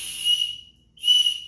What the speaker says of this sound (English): Another little whistle.